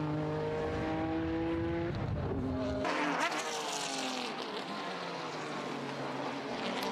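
Supercars and race cars roar past at a live car meet, one loud engine note sweeping by and fading before another car's high-revving snarl takes over, continuous and close throughout.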